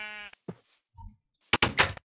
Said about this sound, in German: Schaf, geh weg.